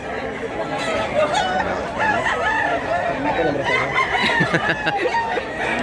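Roosters crow repeatedly among clucking fowl at a chicken market in Mantalungon, Cebu, with people chattering in the background throughout.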